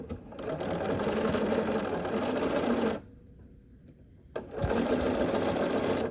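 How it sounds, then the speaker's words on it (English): Sewing machine stitching quilt block pieces for an Ohio star block: a fast, even mechanical whir running steadily, pausing for about a second and a half, then resuming at the same close, loud pace. "We have 3 more pieces to sew on, so I have a background square."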